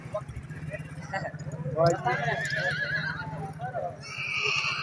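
A mare whinnies at a busy horse market, one rising neigh standing out over steady background chatter and faint hoof and engine noise.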